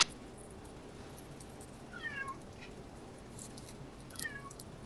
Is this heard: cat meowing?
yes